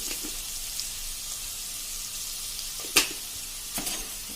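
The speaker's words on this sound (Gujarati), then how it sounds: "હવે આને આપણે મીડિયમ ફ્લેમ ઉપર 2 થી 3 મિનિટ સાંતળશું." Chopped onion and asafoetida sizzle in a pan over a medium flame, a steady close frying hiss with a couple of brief stirring clinks, no talking.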